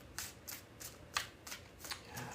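Tarot cards being shuffled by hand, a soft rhythmic series of crisp riffling bursts about every half second, faint and close with no talking.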